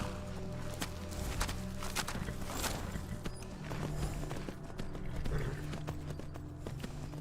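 Rhythmic clip-clopping of horse hooves walking in The Elder Scrolls V: Skyrim, steady and close, over a low ambient rumble.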